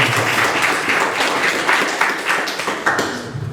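A congregation at a Sunday worship service for Papuan students in Bandung claps after the service, giving steady, dense, loud applause with no pause that runs to the end.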